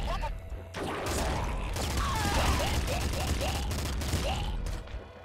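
Rapid machine-gun fire from the Nuclear Throne video game rattles in dense bursts with crunching impacts and chirping effects, steady and fairly loud throughout, with some game noise layered underneath.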